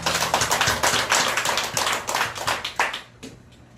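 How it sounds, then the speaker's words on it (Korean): A church congregation gives a round of applause after a sermon, brisk close clapping from many hands that stays loud and dense before tapering off sharply in the last second. "하나님의 영광의 박수를 드립니다"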